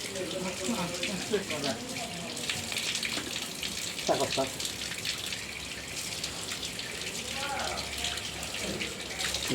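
Fish are washed in running water from a tap, a steady splashing wash that continues throughout, close, with a voice talking over it.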